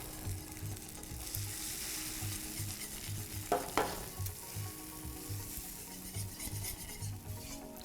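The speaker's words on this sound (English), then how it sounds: "take your pan off, just like I did, and keep stirring and whisking" Eggs being stirred and whisked in a warm pan taken off the heat: soft, repetitive scraping and light sizzling with a brief knock midway, fairly quiet and with no talk.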